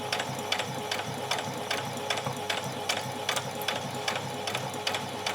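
A sewing machine stitches straight across apron fabric, a fast, even mechanical chatter with regular clicks roughly every third of a second, close and steady with no talk.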